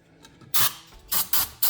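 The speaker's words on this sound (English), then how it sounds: "And we're gonna spray the cleaner right into this cup." Several short, loud hissing bursts from an aerosol can of engine cleaner sprayed into a small cup while cleaning a PCV valve from a Lexus LS430, about four quick sprays close up, separated by brief pauses and faint clicks.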